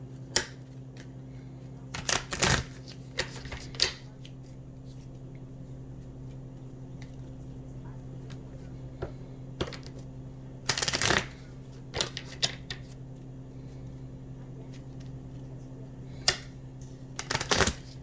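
Oracle cards being shuffled by hand, quiet intermittent riffling and snapping bursts spaced across a calm, low background hum, with no talking.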